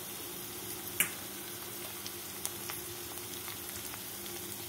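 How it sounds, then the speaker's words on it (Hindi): Garlic and curry leaves frying in a pan give a soft, steady sizzle and crackle with one small pop, quiet and close, with no talking. "लहसुन डाल रही हूँ, ये कड़ी पत्ता है"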